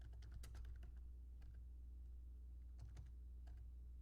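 Computer keyboard typing, with quick irregular bursts of key clicks separated by pauses, faint and close over a low steady hum.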